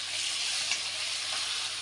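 Eggplant and home-grown organic drumsticks sautéing in a pan for brinjal curry, producing a soft, continuous sizzle with faint stirring touches, fairly quiet and without talking.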